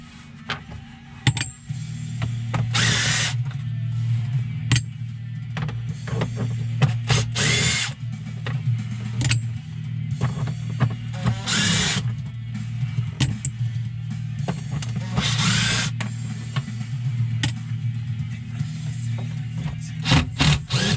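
A cordless impact driver backs screws out of a plastic housing, firing in repeated short hammering bursts between pauses, close and loud over a low engine-like hum.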